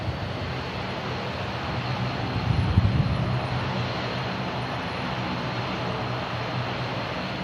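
An aircraft engine roars in a steady broad drone at Manchester Airport on a windy day, wind buffeting the microphone throughout and a brief low swell in the middle.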